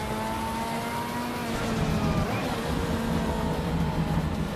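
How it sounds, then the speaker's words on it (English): Race car engine in the Assetto Corsa EVO racing sim, a loud, sustained drone with a steady pitch that rises and falls, continuous throughout with no talk over it. "This car is aggressively loud."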